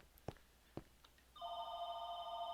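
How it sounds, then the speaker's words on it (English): A phone rings indoors during a computer gaming session: a couple of soft clicks, then a steady electronic ringtone starts and keeps sounding at moderate volume, with no talk. "Phone was ringing."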